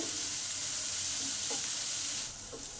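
Onions sizzle steadily in a pan over medium heat with a bright, continuous hiss, while a spatula scrapes and stirs them in a few soft strokes.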